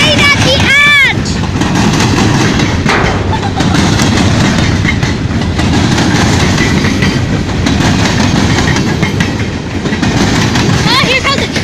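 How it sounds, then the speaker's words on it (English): A train rolls past close by, a loud continuous rumble with clattering wheels and a high squeal near the start, while excited voices cheer and talk over it throughout. "Oh, here comes a train!"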